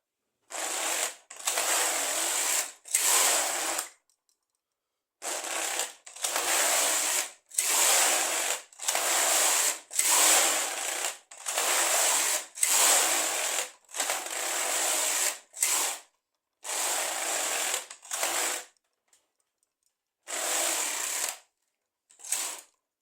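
A sewing machine stitches rows in bursts, each run a loud, even mechanical whir lasting one to two seconds, separated by short pauses, close by with no talking.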